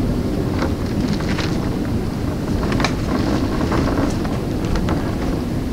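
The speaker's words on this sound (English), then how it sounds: "Ooh, sure is windy." Strong outdoor wind buffets the microphone without pause, a loud, low rumble broken by brief gusty flutters, with no one talking.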